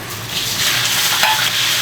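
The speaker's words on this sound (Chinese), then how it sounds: "油烧热，香料先下锅" Whole spices sizzle and crackle in hot oil in a wok with the range hood running, a steady, loud broadband frying hiss with light stirring scrapes throughout and no talking.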